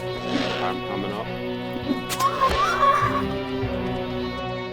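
Horse in a video game neighing in a couple of shrill whinnies over a busy game backdrop, with players talking over the sounds.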